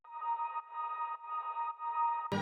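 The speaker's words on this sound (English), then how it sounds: "For the background ambience I added an ambience sample." Ambient sample layered in an electronic track: a steady, tonal hum with a faint high whistle pulsing in four even swells, ending with a sudden low thump at the cut.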